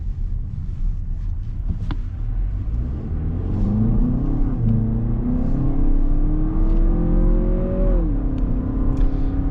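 A 2023 Lexus RX 350 accelerates on a test drive, its engine note rising steadily in pitch over several seconds, then dropping as it shifts, with road and wind noise heard from inside the cabin.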